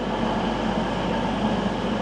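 A train at Derby station in the UK gives a dense, steady rumble heard from up close, with a continuous low mechanical drone and no voices.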